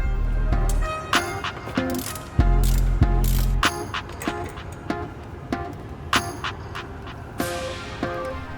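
A ratchet wrench works on suspension bolts during a coilover install on a Toyota 86 / Subaru BRZ, giving bursts of rapid clicking between metallic clanks and knocks, close and fairly loud.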